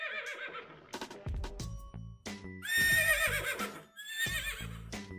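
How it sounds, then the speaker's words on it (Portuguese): A horse whinnies loudly twice, high and quavering, with hoof clops and shuffling between the neighs, close by. "É o cavalo."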